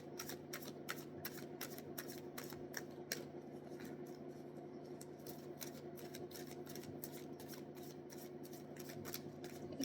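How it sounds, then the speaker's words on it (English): Tarot cards riffled and shuffled by hand in a steady stream of quick crisp flicks and snaps, close and fairly quiet over a constant low room hum, with no talking. "Oh, I'm shuffling upside down."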